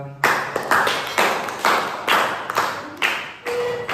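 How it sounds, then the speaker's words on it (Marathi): A group of schoolchildren clapping for a classmate named Shraddha, several short bursts of applause in a steady rhythm, close and lively. "एकदा श्रद्धासाठी टाळ्या वाजवा"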